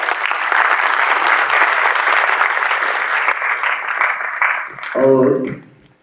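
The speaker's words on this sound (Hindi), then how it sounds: "उनको एक जोरदार ताली चाहिए।" Audience applause at a literary festival, a loud, dense burst of clapping sustained for about five seconds, then a brief swell of cheering and a short tail as it fades.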